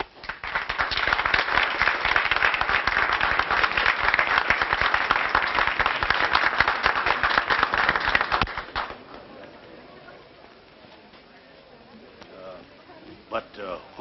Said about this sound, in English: Who was that applause for just as I came in?